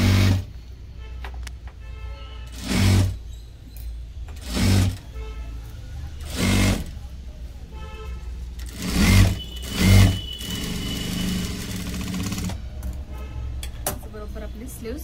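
A sewing machine stitches a size 32 four-tuck blouse in several short, loud bursts of whirring, separated by pauses, while a person talks throughout.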